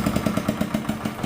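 A small Honda engine idles steadily after being throttled back, producing an even, fast chugging pulse that is close and loud.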